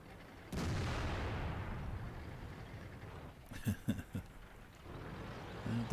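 A tank cannon fires in World of Tanks with a sharp, heavy boom that rolls off slowly, followed by a few smaller thuds and impacts over the battle's low rumble.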